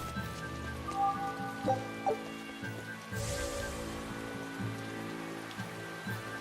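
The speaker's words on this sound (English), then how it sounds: "Why do I have to have these raindrops?" Raindrops patter steadily in the video game Tales of Berseria, a soft, continuous rain over a surface, blended with quiet tonal game music and occasional brief thumps.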